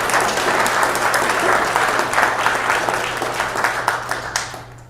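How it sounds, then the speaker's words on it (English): An audience at a Columbia public astronomy lecture on black hole paleontology applauds, a steady dense wash of clapping with a faint hum beneath, gradually thinning toward the end. "Another round of applause for Dr."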